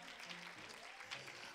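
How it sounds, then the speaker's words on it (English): A church congregation claps in praise during a worship service, a dense, steady wash of hand claps with some voices and organ-like tones mixed underneath. "Give God a hand clap of praise"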